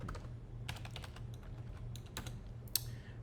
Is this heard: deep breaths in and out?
no